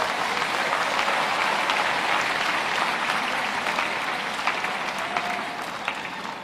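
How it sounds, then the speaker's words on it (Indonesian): A crowd at a Catholic anniversary mass of the Archdiocese of Semarang applauds in a dense, sustained wash of clapping that holds steady for several seconds, then tapers slightly toward the end. "Tepuk tangan untuk mereka semua."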